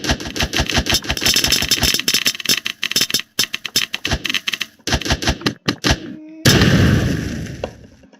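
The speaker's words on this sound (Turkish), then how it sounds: "Da bomba böyle patlatılır" A bomb bursts in the game Ragdoll Archers as a loud, decaying blast, after a run of rapid, clattering game clicks and hits.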